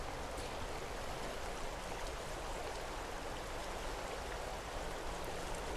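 The Puntledge River flowing, a steady, broadband rush of moving water heard alone without voices, even and unbroken throughout.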